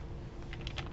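Quiet tapping on a computer keyboard during a lesson on two-way frequency tables, a faint run of keystrokes that quickens toward the end, with no one talking.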